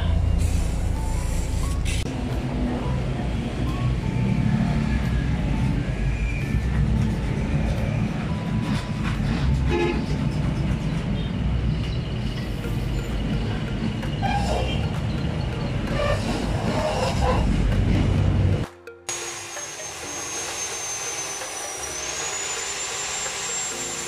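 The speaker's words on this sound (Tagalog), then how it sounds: "magpapakrimp tayo ng ng hydraulic hose" Hydraulic crimping machine pressing fittings onto a power steering hose from a Foton Transvan with a 4JB1 engine, a loud steady mechanical drone and hum running for about eighteen seconds before cutting off to quieter background with a faint high whine.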